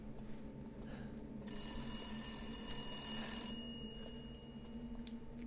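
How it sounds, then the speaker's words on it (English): A telephone rings in a hallway in the video game Resident Evil Village, a bright electronic bell trilling steadily for a couple of seconds over low ambient game hum, then cutting off. "In classic Resident Evil 7, it's going to ring as soon as I walk away"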